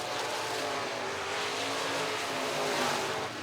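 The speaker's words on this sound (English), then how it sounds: "Bowers pulling away now from Hatcher" Modified race cars roar around the RPM Speedway track in a dense, continuous engine drone, loud and close throughout the short stretch, with no talk over it.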